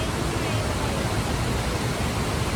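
Strong water rushing after heavy rain makes a dense, steady roar that fills the whole stretch evenly and loudly, with no breaks or voices.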